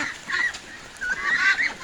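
Farm ducks being led into water for a bath call out in a few short nasal honks, close and moderately loud, with a quiet wet background.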